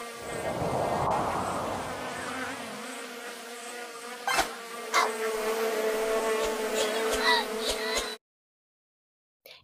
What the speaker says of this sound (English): Let's listen to the insects buzzing.